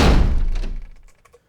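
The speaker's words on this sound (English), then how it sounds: "There's some really nice rattling in low end, especially when the door hits the wall." A heavy door thuds hard into a wall, followed by a low rattling that trails off over about a second, fairly close and loud.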